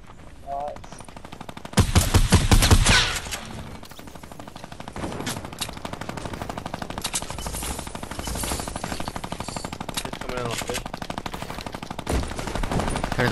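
Rapid automatic gunfire from a minigun in an online multiplayer shooter scrim match, a dense rattling burst that swells loud around two seconds, then sustained rapid fire continuing underneath, with other gunshots and faint voices mixed in.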